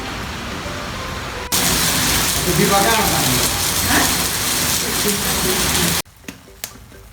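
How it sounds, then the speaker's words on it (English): Rain falling outside, a loud dense hiss of steady downpour that swells in abruptly and runs for several seconds before cutting off, followed by a quieter indoor stretch with faint clicks. "So it's raining outside, like I'm gonna show you guys."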